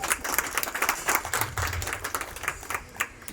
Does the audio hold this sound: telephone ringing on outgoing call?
no